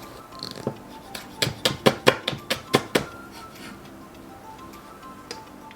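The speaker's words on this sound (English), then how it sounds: "I'm going to julienne cut this into thin strips." A knife julienning Asian leek into thin strips on a cutting board for tomato kimchi, with about nine quick, crisp chops in a steady rhythm, close and fairly faint.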